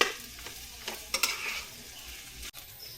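Rice is stirred in a sizzling frying pan, with soft scraping and faint utensil clinks over a steady frying hiss, close and fairly quiet.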